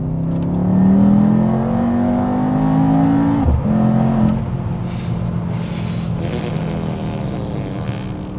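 A Mercedes-AMG GT 63 E Performance at full throttle, its engine note rising steadily from inside the cabin, a brief shift break midway before it pulls on with a steady roar and rushing road and wind noise.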